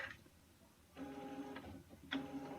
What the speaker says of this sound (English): somebody's got a printer running